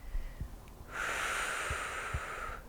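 A person exercising with resistance bands breathes out in a long, steady hissing exhale after a few soft sniffs and thumps, heard close and fairly quiet.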